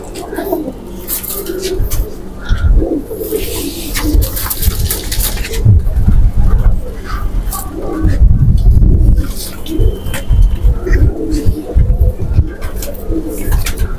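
Domestic pigeons, including dub-tail and lal peri types, coo steadily while being shuffled into a corner of their loft; the soft, repeated coos run throughout, mixed with rustling and occasional voices nearby.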